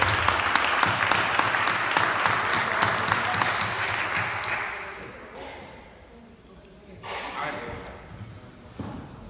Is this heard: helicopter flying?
no